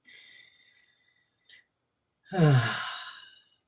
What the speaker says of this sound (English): take an inhale and exhale with the sound of ah